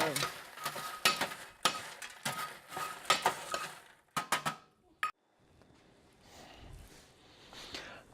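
Popcorn kernels dusted with Flavacol being shaken and stirred around in a pot, bursts of rattling scrapes and swishes in short rhythmic bouts, then a few sharp clanks before quiet.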